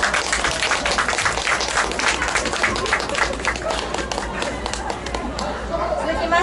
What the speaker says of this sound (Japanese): 皆様、改めて大きな拍手をお送りください。